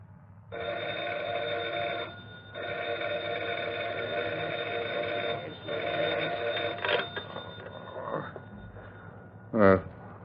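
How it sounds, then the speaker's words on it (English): An old-fashioned telephone rings at dawn in a radio drama, three long bell trills separated by short pauses, followed by the handset being picked up and a voice starting to speak. "At dawn the next morning, the phone rings at McCurdy's home."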